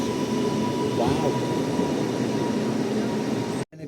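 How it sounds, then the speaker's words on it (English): A big train arriving at Buckshaw station near Preston gives a steady, loud rumble and rush of wheels and air throughout, ending with an abrupt cut. "God, big train, isn't it?"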